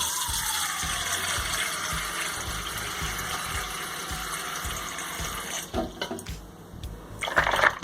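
Tap water streams steadily into a basin of ice water for a homemade corn syrup recipe, a loud continuous gush that breaks into splashes and clinks near the end.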